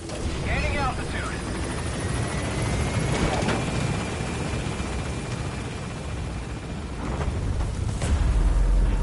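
A helicopter takes off and gains altitude in Metal Gear Solid V, its rotor and turbine roar filling the scene steadily and loudly, with a brief radio voice speaking near the start.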